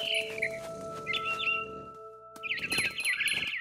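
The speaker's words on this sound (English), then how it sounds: "Then I heard chirping outside my window. It was a barn swallow going back to her nest." A barn swallow chirps outside a window in the video game What Remains of Edith Finch, with bright, quick twittering calls in two bursts over a soft steady ambient hum.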